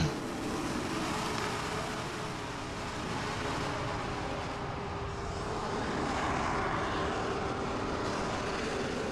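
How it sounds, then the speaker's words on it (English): Loud, continuous broadband roar of airliners landing at Milwaukee International airport in a flight simulator, a steady rumbling engine drone that swells slightly toward the end, with no voices. "Them airplanes landing are loud as hell."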